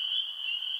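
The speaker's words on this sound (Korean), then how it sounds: "개구리의 울음소리가 들려왔습니다" A single frog calls in a sustained, high, steady croaking trill, clear and isolated against an otherwise quiet background.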